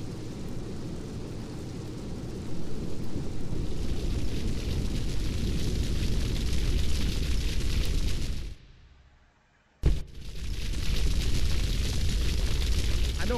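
A video game explosion in GTA 3: a sustained roaring blast rumbles loudly for several seconds, cuts to near silence, then a sharp burst restarts the heavy rumble.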